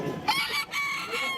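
A rooster crows nearby while chickens cluck, with busy background noise around them at a pet market in Bulacan.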